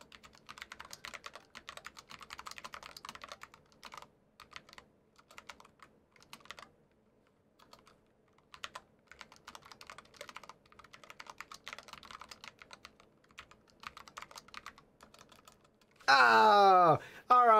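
Typing on a Cooler Master SK622 ultra-compact mechanical keyboard produces a steady patter of close, crisp key clicks with brief pauses, followed at the end by a loud burst of other noise.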